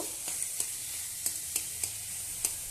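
Food fries in a pan with a steady, bright sizzle while a spatula stirs it, leaving several light scraping clicks spaced across the hiss.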